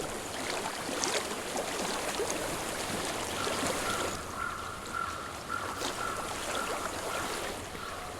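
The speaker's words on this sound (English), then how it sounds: "I hear water." Flowing water from a stream in Hellblade: Senua's Sacrifice, a steady broadband rush with a faint tonal hum partway through, moderately quiet and continuous with no speech.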